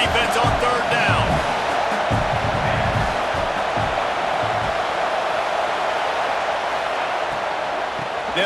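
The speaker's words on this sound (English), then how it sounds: "Decibels rising as the crowd gets behind this defense on 3rd down." A football stadium crowd roars behind the defense on third down: a loud, dense, sustained wall of cheering and noise that holds steady throughout, with no clear breaks.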